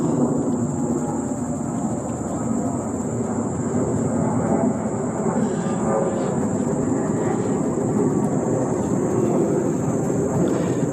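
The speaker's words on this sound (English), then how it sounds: "the aircraft going over are either coming out of Midway or going into Midway" An airplane passes over near Midway airport, a broad, steady roar that hangs in the air throughout, with a high insect-like whine running constantly above it.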